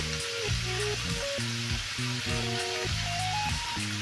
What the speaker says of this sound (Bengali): দিয়ে একটু নাড়াচাড়া করে ভাজা ভাজা করে নিচ্ছি আর কুমড়োর ডাঁটাগুলো এর মধ্যে দিয়ে দিয়েছি